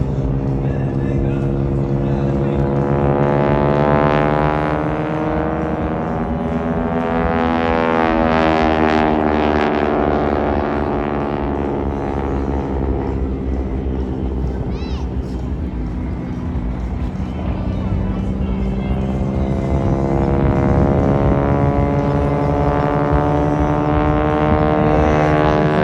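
Vintage SNJ trainer aircraft from 1942–43 flying aerobatics at the Jones Beach airshow: a loud, continuous droning engine roar with slowly rising and falling pitch as the planes maneuver, a voice heard over it.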